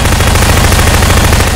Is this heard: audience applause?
no